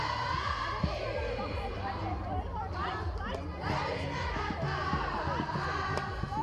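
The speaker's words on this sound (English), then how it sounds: "I don't know if you can hear the Arundel girls cheering for their alumni." Schoolgirls cheering for their alumni at an Arundel versus Chisipite hockey match for the Brooker Cup, a continuous crowd roar with shouts and chatter while a commentator talks over it.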